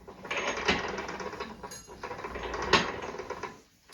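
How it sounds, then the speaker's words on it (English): An Exxentric kBox flywheel training device whirs as it spins up, with a mechanical rolling hum and a sharp knock near the end when it stops. The sound is close and steady, with no talking. "Now you spin this to get the rope, squat down, and it stops right where I told it to stop."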